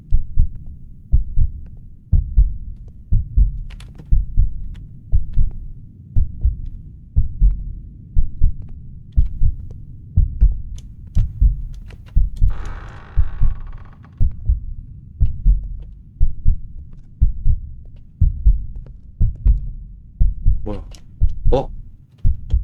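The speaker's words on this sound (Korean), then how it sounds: "심장 소리가" Heartbeat in the horror video game The Lost Fear: steady, loud, low double thumps repeating roughly every second and a half, with brief faint game noises and an occasional voice over it.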